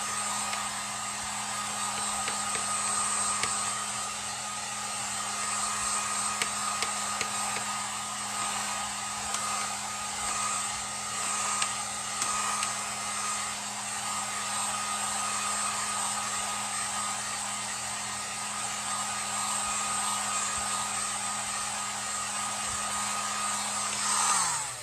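A hair dryer blows continuously to dry chalk paste on a board, a steady loud whirring rush with a constant hum that runs unbroken for the whole stretch, close by and with no talking.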